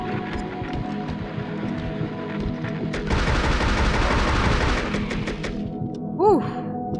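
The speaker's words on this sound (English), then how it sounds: "Thank goodness for this assault rifle, because holy moly." Assault rifle gunfire in the video game Silent Hill: Origins, sustained bursts of rapid shots that swell loudest in the middle and die off into heavy thuds near the end.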